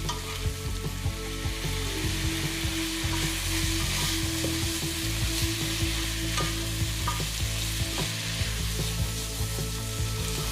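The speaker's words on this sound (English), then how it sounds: "add the squid. Sauté over high heat for a few minutes" Squid sautés over high heat with golden-browned onion and garlic for Spanish squid in ink. The sizzle is loud and steady throughout, with occasional scraping stir strokes close up and no voices.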